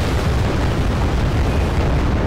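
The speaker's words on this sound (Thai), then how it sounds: "ถล่มด้วยปืนใหญ่และเครื่องบินก่อน" Loud, continuous rumbling barrage of artillery and air strike explosions in the video game Wargame: Red Dragon, heavy low-end blasts blending into one thunderous roar.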